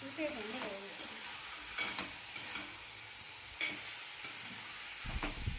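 Bottle gourd pieces and chicken curry being stirred in a pan, with a steady soft sizzle under repeated scraping strokes of a spoon against the metal, fairly quiet and close, with no talking.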